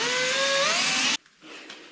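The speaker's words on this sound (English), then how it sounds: "Now change to a 5mm drill and drill through this." A power drill fitted with a 5mm bit bores a hole for a Vespa PX steering damper, giving a steady high whine that rises in pitch for about a second and then cuts off abruptly.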